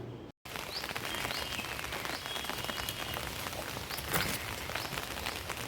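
Rain falling in a steady dense patter on surfaces, a constant hiss with scattered louder drips, after a brief silent gap at the start.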